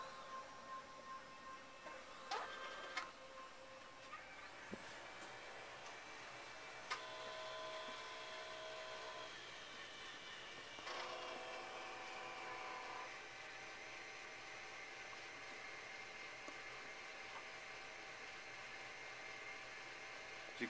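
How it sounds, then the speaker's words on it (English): An RTI Auto Smart disc repair machine running its second stage gives off a steady, quiet mechanical whir with a faint high hum, continuous and even for about twenty seconds, with a few light clicks and no voices. "As you can see, the machine runs very quiet."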